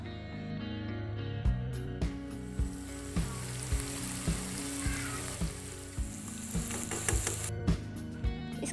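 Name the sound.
onion paste frying in a pan for chicken curry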